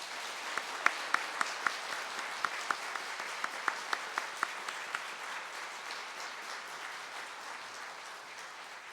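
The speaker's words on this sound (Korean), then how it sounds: "박수로 환영해 주시기를 부탁드립니다" A church congregation applauds during a Sunday worship service, scattered claps rising into steady clapping that tapers off toward the end, heard from some distance in the room.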